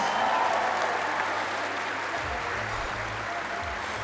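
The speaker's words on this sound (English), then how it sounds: "give him a big round of applause" Crowd applause at the Strongman World Championship, a steady broad wash of clapping from a large audience, loudest at the start and easing slightly while continuing throughout.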